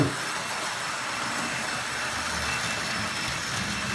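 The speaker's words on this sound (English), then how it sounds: "So there's a lovely little train running, never lets me down, never lets me down." Heavy Roco model train running on layout track in a train room, a continuous soft rolling hiss and rumble that stays even from start to finish.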